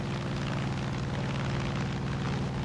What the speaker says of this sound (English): I'm in a plane up here